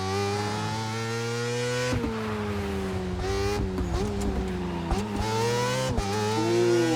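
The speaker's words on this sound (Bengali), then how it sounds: "পুরো রিয়েলিস্টিক একটা বাইক আসতেছে" A Kawasaki Ninja H2 engine in The Crew Motorfest racing game drones with a strong harmonic whine, rising and falling through revs and gear changes while the bike rides, loud and close with no voices.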